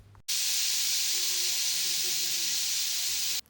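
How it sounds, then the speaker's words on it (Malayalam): A pressure cooker with chicken curry inside lets off a loud, steady jet of hissing steam that starts abruptly and holds constant for about three seconds before cutting off. "നന്നായിട്ട് കുക്കറിൽ വിസിൽ അടിച്ചെടുക്കണം"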